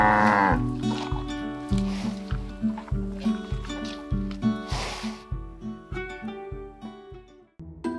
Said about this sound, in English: Here are some beautiful herd of cows and their babies.